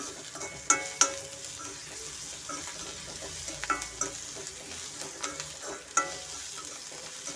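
Onion, ginger and garlic fry in a pan for a brinjal gravy: a soft sizzle underneath, broken by sharp scraping clicks from stirring at irregular intervals.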